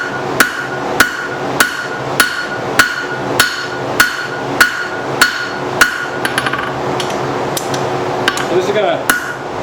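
A hammer strikes steel stock on an anvil as it is forged and tapered into hooks, ringing at an even pace of about two blows a second. The blows are loud and close, then turn lighter and quicker toward the end.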